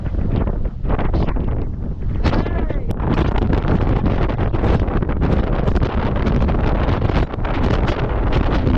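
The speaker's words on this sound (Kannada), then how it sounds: "Full fog, full wind." Strong wind buffets the microphone on the hilltop at Kote Betta in Coorg, amid fog, a loud, continuous roar and rumble with gusty surges that persist without break throughout.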